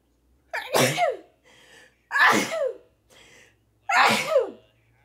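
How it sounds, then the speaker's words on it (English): Three sharp, loud sneezes spaced evenly over a few seconds, each a sudden burst with a short breathy intake between, close to the microphone and with no talk. "Pardon my sneezing, by the way."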